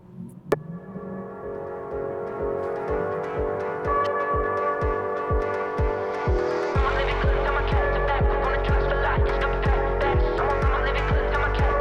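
A BMW 335 pulling away hard from a standstill, its engine droning with rising harmonic tones, then surging louder with heavy throbbing pulses as it accelerates, close and sustained, with no voices.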